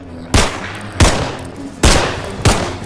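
Four loud, booming gunshots in the video game Delayed Sun at an uneven pace, each sharp crack trailing off into a short echo; no voices.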